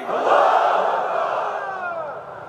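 Large crowd shouting a chant of Allahu Akbar in unison in answer to a call of Nara-e-Takbir, one sustained, full-throated roar of many voices that swells and slowly fades over a couple of seconds.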